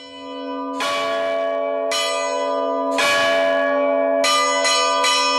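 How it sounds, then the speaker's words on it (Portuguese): Church bells of São Jorge, Madeira, ring out loud and close, several strikes spaced a second or so apart, each with a long shimmering decay, quickening near the end. "o toque de sinos de São Jorge."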